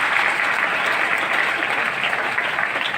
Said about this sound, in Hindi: जोरदार तालियां सभी मिलेनियर्स के लिए।